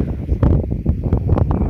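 Heavy wind buffets the microphone with a steady, loud low rumble and gusting surges, no voices.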